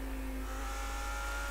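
A Lamborghini Huracan GT3 EVO race car in the iRacing simulator holds a steady, faint engine drone with a sustained tonal whine and deep hum, constant with no clear revving change.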